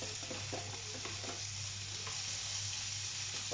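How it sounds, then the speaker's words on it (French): Chicken lardons and onions sizzle steadily in a frying pan, a continuous close hiss with a few soft stirring scrapes and a low constant hum underneath, with no talking. "je vais faire chauffer les lardons de volaille avec mes oignons"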